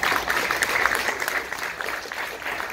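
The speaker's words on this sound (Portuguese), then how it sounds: "Palmas a ele." A gathering honouring a poet on a trova day breaks into sustained applause, a dense, even wash of many hands clapping at moderate distance with no speech over it.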